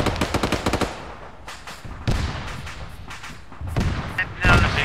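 Gunfire in the military shooter Arma 3, rapid automatic bursts at the start followed by scattered shots and louder blasts, fairly close and punchy.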